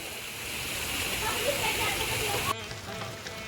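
Water pours from a row of carved stone taps that act like a fountain for monkeys at Swayambhunath temple in Nepal, making a steady, close splashing rush that continues without pause.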